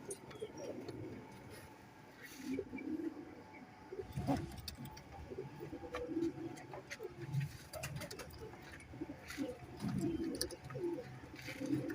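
Sialkoti and Teddy pigeons cooing in a loft, soft repeated low coos rising and falling throughout, with a few wingbeats and faint background noise.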